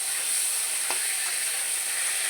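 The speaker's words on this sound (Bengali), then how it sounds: "আলু বেগুনটাকে সুন্দর করে লাল লাল করে ভেজে নেব" Potato and eggplant pieces frying in oil, a dense, even sizzle close by with a brief stirring scrape, continuous and unaccompanied by talk.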